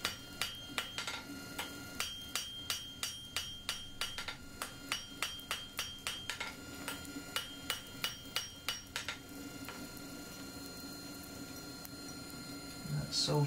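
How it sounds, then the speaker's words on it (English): A steel bar held over the edge of an anvil is hammered for a loft ladder hook, giving a rapid, steady series of sharp ringing metallic strikes close by, about two per second, that later thin out amid a low hum. "Put it over the edge of the anvil so you can hit it without hitting the anvil."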